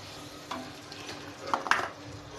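Besan is stirred into green chillies frying in a pan, giving a soft, quiet sizzle with gentle scraping strokes and a couple of brighter metallic clinks near the end.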